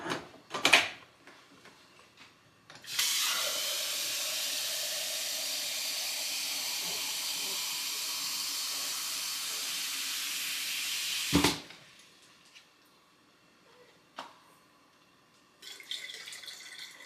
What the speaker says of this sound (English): we're going to top that off with